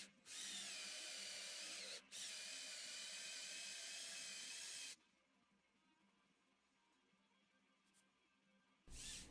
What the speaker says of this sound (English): It's real important when I'm boring these mortises that they're right across from